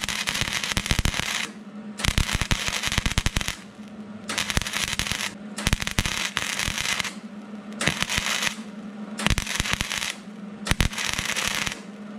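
MIG welding new sheet metal onto the rocker panel of a Mercury Sable station wagon, heard as a run of short crackling, sizzling bursts, each a second or so long, broken by brief pauses, close and loud with no talk.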